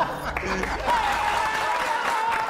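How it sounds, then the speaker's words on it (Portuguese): Applause from a small group on a Brazilian reaction show, with a voice speaking over it and a steady tone running underneath. "revela pra galera pra você ganhar uma salva de palmas merecida"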